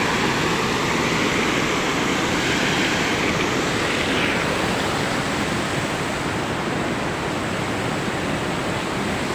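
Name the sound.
water rushing over a mini dam under a bridge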